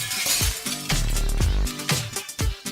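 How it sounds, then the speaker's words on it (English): A glass vase breaks and shatters in a series of loud, sharp crashes, each burst of splintering glass followed by tinkling fragments, repeated several times in close succession. "You've just broken my vase."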